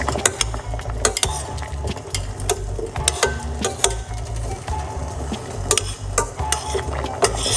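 A hard avocado seed spun around inside a pot, giving a steady run of close scraping, clicking and rattling against the pot's surface with sharp knocks scattered throughout and no talking.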